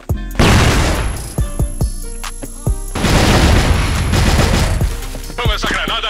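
Flashbang grenade blast and gunfire in a video game: loud booms and a rapid fusillade of shots, with a sharp burst near the start and repeated crackling volleys, ending in a ringing, distorted tail.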